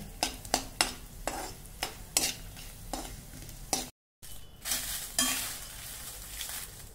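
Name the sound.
asafoetida chunks frying in a little oil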